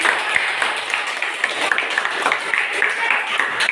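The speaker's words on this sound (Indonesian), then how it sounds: "oke, tepuk tangan" Students in a classroom clap together in a short burst of applause, a dense, fairly loud patter of many hands that stays steady throughout.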